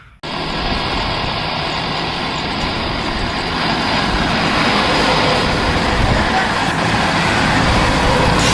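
At an airport, a passenger airplane roars loudly and steadily as it takes off. The broad engine rumble starts abruptly and holds, building slightly as it goes, with no speech over it.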